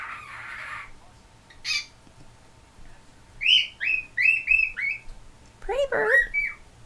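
A pet cockatiel gives a short squawk, then a run of bright chirps and whistled calls, fairly close and clear against a quiet room with a faint hum.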